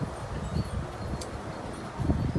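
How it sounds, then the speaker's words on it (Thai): Wind gusting through leaves in a rural outdoor kitchen during a cooking session, with steady rustling that swells at moments and has no talk over it. "ลมมาแล้วพี่น้องสิได้หนีฝนบันนี้"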